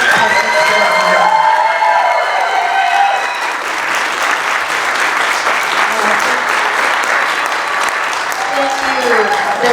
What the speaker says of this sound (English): Let's give a big round of applause to all of our contestants today.